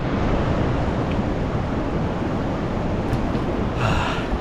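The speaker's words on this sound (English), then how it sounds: "Look at these waves." Whitewater rapids churn through the New River Gorge, a loud, dense, unbroken roar of rushing river water with some wind on the microphone and no talking.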